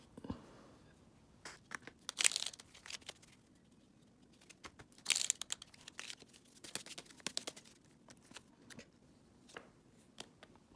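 Paper slips rustling and crinkling as they are shuffled in a small challenge box, with soft irregular crinkles and a few louder crunchy bursts, close and quiet.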